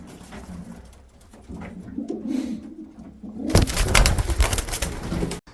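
Pigeons cooing softly nearby in a wild pigeon loft at night, joined midway by a burst of fluttering and rustling as birds move about.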